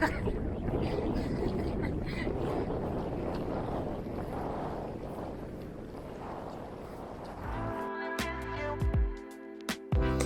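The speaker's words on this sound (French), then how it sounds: "le vent était un petit peu violent au retour" Loud, rushing wind buffets the microphone during a gravel bike ride for several seconds, then gives way to clattering, tonal mechanical sounds and a few sharp knocks.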